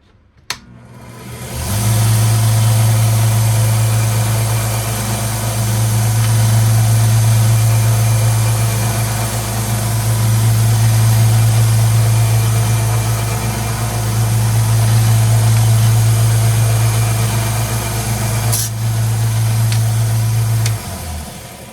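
A Grizzly H6070 sander motor runs steadily close by, a loud continuous hum holding for about nineteen seconds with a slight swelling and easing of level, then cutting off near the end.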